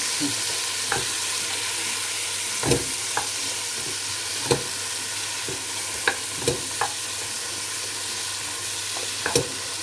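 Chicken frying in a pan for Poulet à la Manoukaise, a steady bright sizzle underneath while a wooden spoon clacks and scrapes against the pan in scattered knocks, about a dozen over the stretch.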